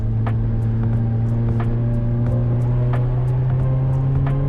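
A Peugeot 106 GTI hot hatch engine holds a loud, steady drone while driving, with a rising engine tone and sharp, regular ticking clicks over the top.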